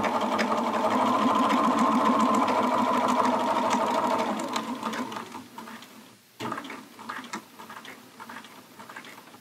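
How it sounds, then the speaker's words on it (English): A sewing machine runs a basting stitch along fabric at a steady, rapid rhythm for about five seconds, then slows into intermittent stitching and handling clicks at close range. "change my stitch length to a basting stitch, still keeping my seam allowance at 5/8, and I'll sew down to my second pin"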